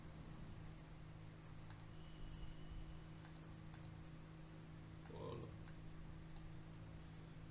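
Faint, steady clicking of computer keyboard keys, a scattering of light taps over a constant low hum, as a Python program is typed and run.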